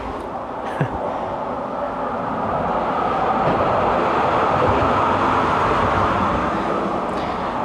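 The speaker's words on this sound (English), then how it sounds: "Sounds like the second train that's going to pass me." A train rumbles past in Penang, a broad steady roar that swells and holds loud and close after a brief sharp knock, with no voices over it.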